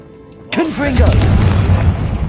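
Confringo blasting spell detonating in Hogwarts Legacy on hard mode, a sudden loud boom with a rumbling burst that lingers, with game voices and music layered around it.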